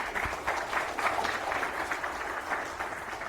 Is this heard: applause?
yes